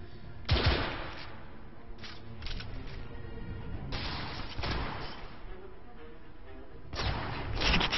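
Gunfire from the video game The Order: 1886, heard as several loud bursts of shots at intervals with quieter background between them and no speech.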